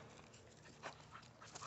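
A driven, jealous female dog pants and whimpers quietly during ball and tug training, soft breathy bursts and faint whines with no talk.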